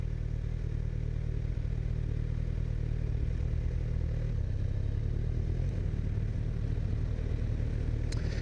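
A Kawasaki Z1000 motorcycle engine idling, a steady low rumble that runs evenly throughout without revving, close to the recorder.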